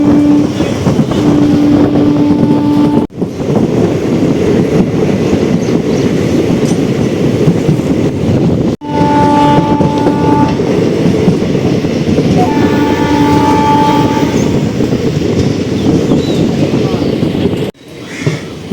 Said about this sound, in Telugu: అప్పటి నుంచి సేమ్ ఇలాగే నడుస్తుంది, ఇదే స్పీడ్ 40-50. మన ట్రైన్ జర్నీ అయితే అలా సాగుతుంది.